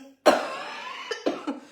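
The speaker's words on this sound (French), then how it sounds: "ça fait quand même plus de 2 semaines que je tousse non-stop" One sharp, hard cough is followed by three smaller coughs in quick succession, close and loud with no talking.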